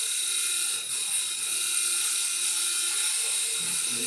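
A negative rake scraper cuts wood on a lathe, giving a steady high-pitched whirring hiss that stays close and continuous, with no talk.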